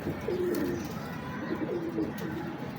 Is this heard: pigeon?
yes